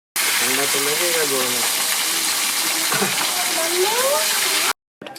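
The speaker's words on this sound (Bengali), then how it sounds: "সব মাছগুলো আমি ভেজে নেব।" Fish frying in hot oil in a pan, a loud continuous sizzle running nearly throughout, with a person's voice heard over it before an abrupt cut and a brief resumption.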